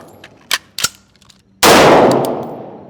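A single rifle shot fired during a safety manipulation and combat reload drill, a sharp loud blast that rings out and decays, preceded by two metallic clicks of handling.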